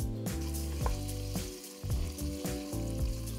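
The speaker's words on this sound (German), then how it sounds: "lasst das alles ruhig so ein bisschen, dass es unten am Boden anpappt, so ein bisschen so rösten" Vegetables roasting in a pot for vegan Thai-style coconut curry soup, left to brown and stick to the bottom. A steady, loud sizzle and fry continues throughout, with occasional sharper crackles and stirring scrapes.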